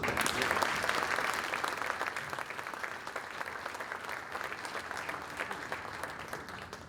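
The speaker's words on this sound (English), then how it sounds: "Can we give him one more round of applause?" Audience applause at a high school society dinner: steady, dense clapping from a room full of people, loudest at the start and easing slightly while continuing throughout, with no talking.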